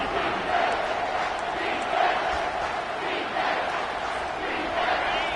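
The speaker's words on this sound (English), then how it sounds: "Decibels rising as the crowd gets behind this defense on 3rd down" Stadium crowd in an American football video game roaring steadily as fans get behind the defense on third down, a dense, continuous wash of cheering and yelling that swells slightly, with a commentator's voice faintly mixed in.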